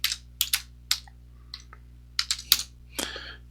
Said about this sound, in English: let's go ahead and type in Google Shadertoy